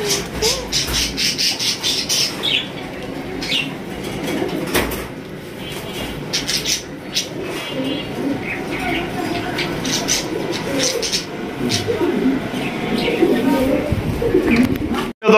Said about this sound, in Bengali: এটা নিয়ে আমরা 2 নাম্বার পেয়ার ম্যাকপাই কবুতর দেখাইতেছি